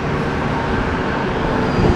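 Steady broadband roar of interstate highway traffic, vehicles doing around 80, a continuous wash of tire and engine noise with no pauses, fairly loud and close, rising slightly toward the end.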